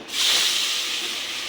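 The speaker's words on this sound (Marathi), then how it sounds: "पहिल्यांदा काय घालणार तर कांदा घालणार कांदा चांगला परतून घेणार" Chopped onion frying in a hot pan for pav bhaji gives a loud, steady hiss of sizzling oil that holds from start to finish, with no voices.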